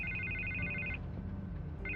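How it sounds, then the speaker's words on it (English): A telephone rings in the Batman Telltale video game, a bright electronic ringtone. One burst of ringing is followed by a short pause, and then the ringing starts again, clear but not loud. "I can't get the phone to stop ringing"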